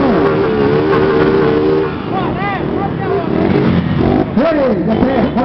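At an outdoor motorcycle show, engines rev and whine with rising and falling pitch, loud and close, while an announcer's voice runs over the noise.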